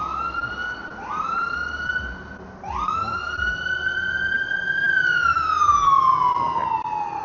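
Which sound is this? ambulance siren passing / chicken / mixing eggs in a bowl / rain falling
ambulance siren passing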